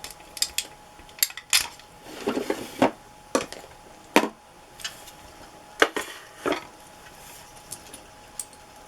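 Little glass bottles are set down one by one into a drawer, producing a series of close, sharp clinks and knocks with short rummaging rattles in between, in an otherwise quiet room.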